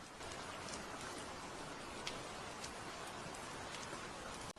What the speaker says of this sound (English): stray rain taps gentle rhythms on the capsule roof